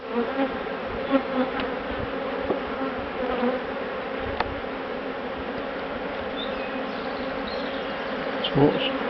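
Agitated honey bees swarm around an open hive in a dense, steady buzzing hum with occasional louder passes of single bees close by, and no talking.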